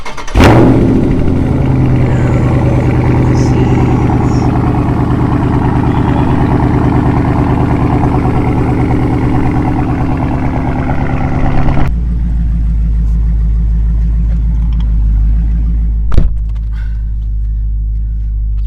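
A car engine cranks to life and then settles into a steady, loud, close idle rumble that continues for a long stretch before dropping to a deeper, quieter hum.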